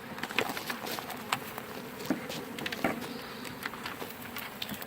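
A swarm of honeybees being moved into a hive gives off a steady, faint buzzing hum with scattered louder passes of individual bees close by, under light outdoor background noise.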